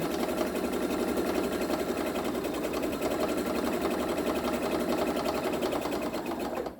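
A sewing machine stitches around the edge of an oven mitt lining, a fast, steady mechanical whir of the needle running continuously before stopping at the end.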